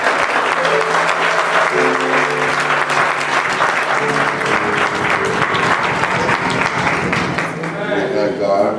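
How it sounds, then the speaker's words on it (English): A church congregation claps and applauds for honorees during a worship service, steady sustained applause filling the whole stretch with voices and cheers mixed in before it starts to thin near the end. "Let's give them a hand."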